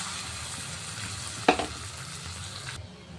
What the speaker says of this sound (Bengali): এটা কষানো হয়ে গেছে, ডালটা দিয়ে দিলাম